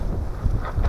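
Wind gusting against a microphone at a frozen lakeshore campsite, a low rumbling buffet that swells and fades, fairly loud and close with no voices.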